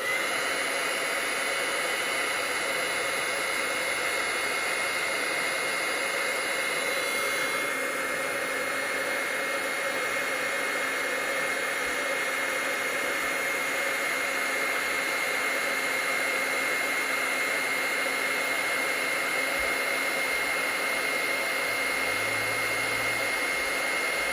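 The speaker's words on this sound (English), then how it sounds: "I'll take my heat tool and we'll just heat this up." A craft heat tool blows hot air over a stamped card-making project, giving a steady broadband whooshing hiss that runs unbroken at close range with no talk.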